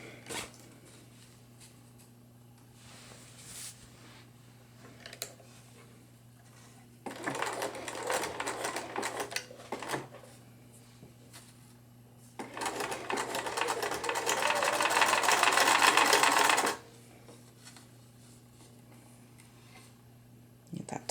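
A sewing machine stitches a fabric grocery bag in two bursts, a steady rapid whir and clatter, with quieter pauses and handling sounds between, against a low hum.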